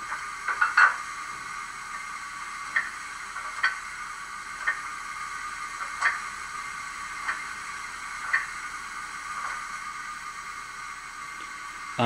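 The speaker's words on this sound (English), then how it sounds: "the coupling up using a scrolling coupling sounds like this" A series of light metallic clicks and clanks at irregular intervals from a Bachmann Class 94xx model locomotive sound decoder coupling up, over a steady faint electronic hum.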